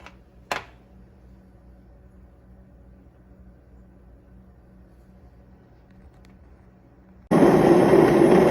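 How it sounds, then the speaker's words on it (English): A plant-based milk maker cooking almond milk: quiet low machine hum with a faint click early on, then a loud whirring grind starts abruptly near the end, like a blender kicking in. "This is the sound of cooking almond milk."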